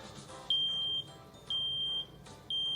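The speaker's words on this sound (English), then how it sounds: "if you hear a smoke alarm" A smoke alarm sounds in shrill, high beeps, three half-second tones spaced about a second apart, loud and piercing.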